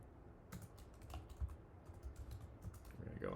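Computer keyboard keys clatter in quick irregular bursts as a terminal command is typed, close and fairly quiet, with no talk.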